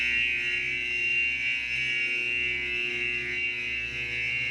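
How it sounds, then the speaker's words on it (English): A school fire alarm sounds continuously, a loud, steady electronic buzzing tone that holds without pause, heard from just outside the building. "the sound you hear is the fire alarm"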